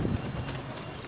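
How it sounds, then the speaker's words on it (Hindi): A white pigeon coos in a low, steady rumble over about a second, heard up close in a rainy-season setting with no talking. "ये देखिए व्यूअर्स, एक नया कबूतर आ रखा है बच्चों में"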